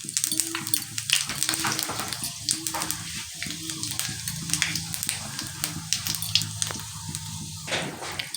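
Cloves, cardamom, cinnamon and dried chilli crackle and sizzle in hot oil with irregular pops, over a low repeating hum.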